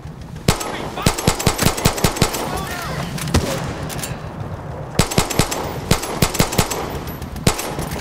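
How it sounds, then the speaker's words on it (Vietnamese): Machine gun fire in the Far Cry 6 video game near offshore oil rigs, rattling in rapid close bursts with a lone shot in between, then another long burst and a final shot over a steady background rumble. "Bắn tí cho vui."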